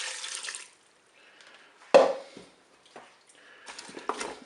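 Broth poured into a pot for a salmon and leek gratin, coming as short splashy bursts of liquid pouring and dripping, separated by brief pauses, close and moderately loud.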